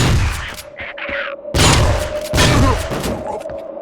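Shotgun blasts in the Vivisector: Beast Within video game, two loud close booming shots about a second apart with ringing tails, preceded by softer clattering game noises, no talking.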